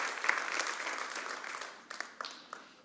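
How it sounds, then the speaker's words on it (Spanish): A short burst of applause from a church congregation, thinning out toward the end into a few scattered claps. "Dele un aplauso mientras se sienta."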